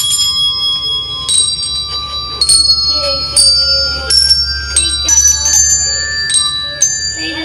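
Several handbells ring in turn, bright clear tones striking one after another in an uneven melody, each note lingering and overlapping the next.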